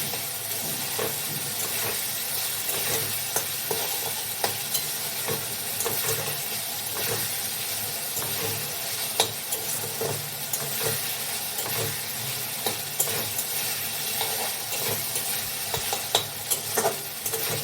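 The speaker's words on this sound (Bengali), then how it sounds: "ভালো করে কষিয়ে নিচ্ছি।" Spices fry in a pan, a steady soft sizzle and hiss broken by repeated scraping and stirring clicks throughout, fairly quiet and close, with no one speaking.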